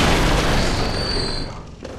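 A single rifle shot from a wheelchair-bound enemy in Bloodborne, heard as a loud, booming blast whose echo fades slowly over about two seconds.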